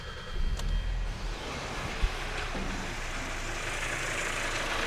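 A Hyundai car with a GDI engine, suffering low power and long crank times, turns over and settles into a steady idle heard from close by, with a single sharp click partway through.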